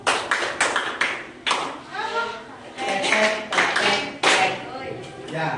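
A classroom performs the Tepuk Indonesia clapping rhythm, sharp patterned handclaps in quick bursts with chanting and talking voices mixed throughout.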